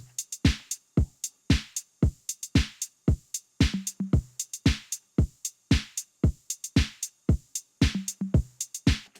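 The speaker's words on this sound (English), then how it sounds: "So yeah, so pretty standard house beat." A steady four-on-the-floor drum machine house beat: punchy kicks on every beat with crisp hi-hats and occasional claps, looping evenly with no voices.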